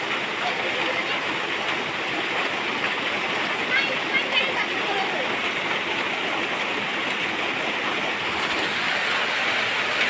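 Heavy rain falling after a hot spell, a dense steady hiss that stays constant and fairly loud throughout.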